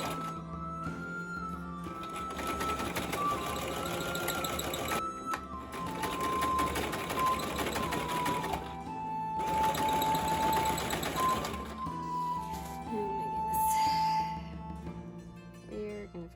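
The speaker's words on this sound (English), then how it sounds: "we're going to fold them over and sew this through the machine" A sewing machine stitches through jester costume fabric in steady whirring runs broken by short pauses. A thin high tone hums through the passages, and the machine sounds close.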